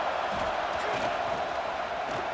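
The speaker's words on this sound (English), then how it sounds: "Decibels rising as the crowd gets behind this defense on third down" A stadium crowd roars steadily during a third-down defensive stand in a college football video game, Arizona Wildcats at USC Trojans, a dense continuous wall of cheering with a voice talking over it.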